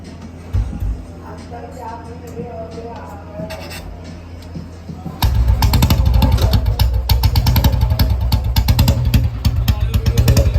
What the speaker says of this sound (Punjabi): ਆਵਾਜ਼ ਦੇਖੋ ਮੋਟਰਸਾਈਕਲ ਦੀ ਉਹੀ ਪੁਰਾਣੇ ਸਟਾਈਲ ਜੋ ਅਸਲ ਬੁਲਟ ਦੀ ਆਵਾਜ਼ ਸੀ